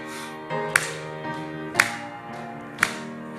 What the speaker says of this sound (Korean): 우리 같이 힘차게 박수치며 찬양하겠습니다